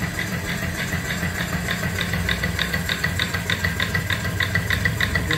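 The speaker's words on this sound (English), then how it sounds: "I kind of hear the exhaust chuck, chuck, chuck up the stack." An antique steam engine paired with its boiler chuffs its exhaust up the stack in a steady, rapid, rhythmic beat, loud and continuous with a low mechanical rumble beneath and no voices.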